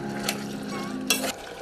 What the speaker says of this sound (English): Now, while that is frying, you're going to take care of the rice.